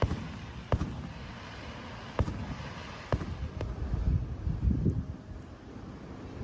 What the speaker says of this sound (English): And fireworks.